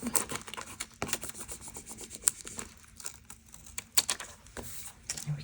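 An adhesive sheet being peeled back from a page of a floating spine album, giving soft, close rasping and crinkling bursts that come and go at a quiet level, with no talking.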